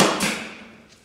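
A brad nailer fires a nail into the wood of a beehive box being built: one sharp, close, loud shot with a brief ringing decay, heard alone.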